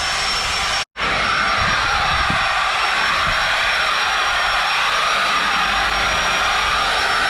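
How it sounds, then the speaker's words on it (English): Power polisher running steadily against painted boat hull, a loud continuous high-pitched motor whine and hiss, briefly cutting out near the start before resuming at full level. "You want to make sure that your polisher is always moving."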